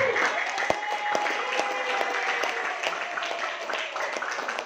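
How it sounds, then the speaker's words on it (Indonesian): A seminar audience breaks into sustained applause, dense steady clapping from many hands that continues evenly throughout with a few sharper claps standing out. "kali ini aplaus buat Tuti Hajakarta"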